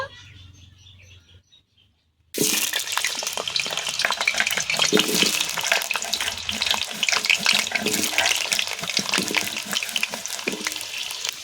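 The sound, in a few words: potatoes frying in mustard oil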